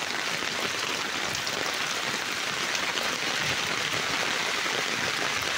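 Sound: rain falling on a flooded Nairobi road

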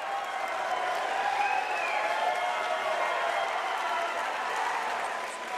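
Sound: crowd cheering and applauding at a fight

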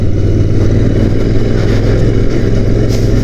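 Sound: Royal Enfield Interceptor 650 climbing off-road patch to Khardung La

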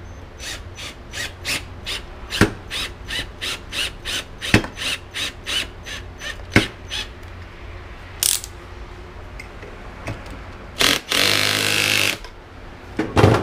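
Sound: screwing a screw into a drilled hole in PVC

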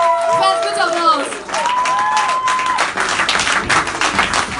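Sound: fans applauding

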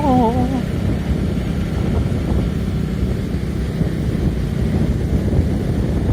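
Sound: wind blowing

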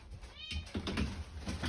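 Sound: cat meowing at a cat shelter

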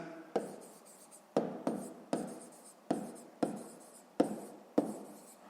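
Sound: writing on paper during a math exercise

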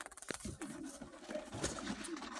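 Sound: pigeons cooing

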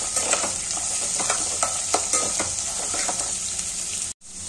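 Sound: chopped onion frying in oil

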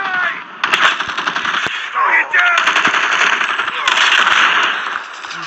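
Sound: gunfire in Call of Duty video game

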